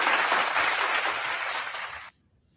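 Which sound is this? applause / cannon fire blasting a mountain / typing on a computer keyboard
applause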